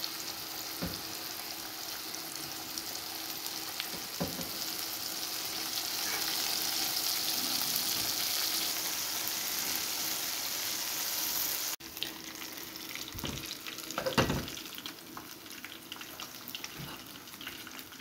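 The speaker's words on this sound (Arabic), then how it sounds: "غادي نقليو دابا ان شاء الله الدجاج ديالنا في الزيت اللي دايرينها سخونه من قبل" Chicken pieces, breaded KFC-style, frying in preheated hot oil with a steady broadband sizzle throughout, briefly interrupted by a cut and occasional clinks or stirring sounds; no talking.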